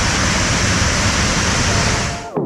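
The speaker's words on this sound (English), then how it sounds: "that's a hell of a lot of water. It's probably just going to sound like white noise on the recorder." A huge volume of water rushing through a chasm in New Zealand, a loud, dense, unbroken roar close by that cuts off abruptly at the end.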